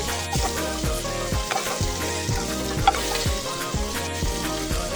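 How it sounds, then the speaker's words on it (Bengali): Fish sizzles and crackles steadily in hot oil while a utensil stirs and scrapes the pan in a regular rhythm, close and fairly loud. "খুব কড়া করে ভাজবো না। দেখো বন্ধুরা, মাছটা মোটামুটি ভাজা হয়ে গেছে।"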